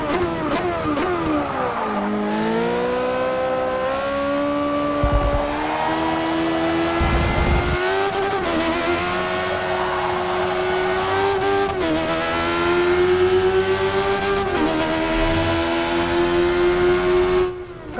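An untuned Caparo T1 race car in Forza Motorsport 6 screams loudly throughout, its engine pitch climbing through repeated upshifts, then dropping and rising again under braking and acceleration, close and continuous with no talk.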